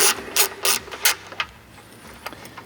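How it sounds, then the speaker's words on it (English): A ratchet wrench loosens the battery tie-down bolts on a 2020–2024 Chevrolet/GMC L5P Duramax truck, giving several quick, close clicking bursts in a loose rhythm, then a few softer isolated clicks as the bolt frees up. "Let's get these bolts out of here and get that tie down in play."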